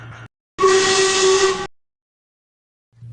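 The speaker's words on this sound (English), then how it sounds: "It sounds like a whistle." A single loud, sustained steam-train whistle in the Trainz railway game blasts for about a second, then cuts off into silence, with faint low hum before and after.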